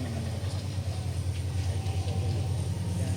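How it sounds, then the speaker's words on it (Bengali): A train passing nearby, a continuous low rumble and droning roll that stays steady and loud for the whole stretch, with no voices. "এত ঘন ঘন ট্রেন আসে।"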